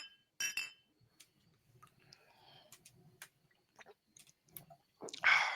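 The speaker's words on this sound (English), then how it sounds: "cheers, Tanky" Glasses clink together in a toast during a podcast, a sharp ringing chime at the start followed by quiet chewing and small clicks, then a louder burst of noise near the end.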